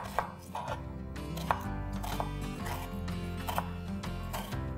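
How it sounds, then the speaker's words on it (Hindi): An onion is cut lengthwise with a knife on a board, giving a steady run of close, crisp chopping taps at a brisk, fairly even pace over a low background hum. "जब तक तेल स्मोकिंग पॉइंट पे आता है हम प्याज काट लेते हैं।"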